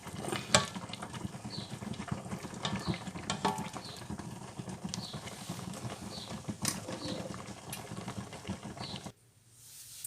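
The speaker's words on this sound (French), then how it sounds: "l'avantage du mixeur plongeur, c'est qu'on peut l'utiliser directement dans la casserole." An immersion blender whirs directly in a saucepan of Potage Dubarry, an old French soup recipe, its motor buzzing and churning for about nine seconds with brief pulsing bursts, then cutting off abruptly into quiet.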